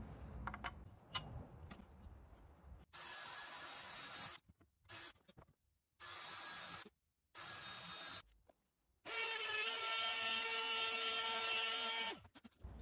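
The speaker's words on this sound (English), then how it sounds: "we'll drill some holes to get this guy mounted right there" Power drill boring mounting holes in a wooden passive subwoofer speaker box, several loud bursts of whining drilling separated by short silences, with softer handling and rubbing sounds at the start.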